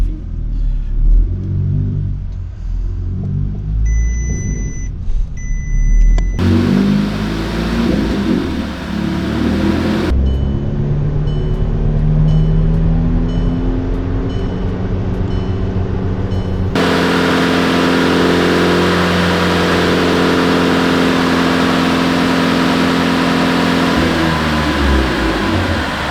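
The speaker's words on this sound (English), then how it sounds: "I want to set up the revs, so I'm just gonna take it through the gears." A turbo petrol VW Caddy, built from a Golf, revs hard on a dyno through its gears, loud sustained engine roar rising in pitch, with abrupt shifts between gears and long steady pulls.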